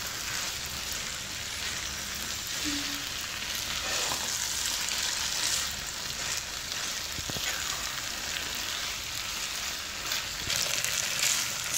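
Spaghetti with chicken and vegetables frying in a pan while being mixed, a constant dense sizzle heard up close with a few faint stirring knocks, no voices.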